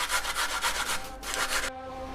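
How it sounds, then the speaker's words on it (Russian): Four or five garlic cloves are rubbed across a fine grater in quick, close, rasping strokes that stop abruptly near the end. "На мелкой терке измельчаю 4-5 зубцов чеснока."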